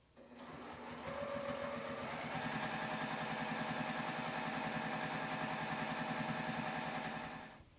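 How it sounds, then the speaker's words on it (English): A sewing machine quilting fabric runs steadily after a brief start, its rapid mechanical stitching chatter continuous and close for several seconds before slowing to a stop. "take this over to the sewing machine and sew those down to get it quilted"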